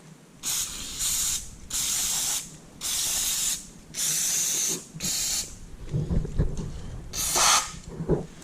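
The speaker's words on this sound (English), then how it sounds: "spray down the turbo" Several short bursts of cleaner spray hiss onto a cheap turbocharger in a steady on-off rhythm, each about a second long, followed by clattering and handling noises.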